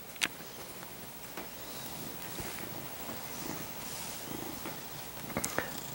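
A large young cat purrs steadily close to the microphone, a soft continuous rumble with faint wind and background noise and a few brief clicks.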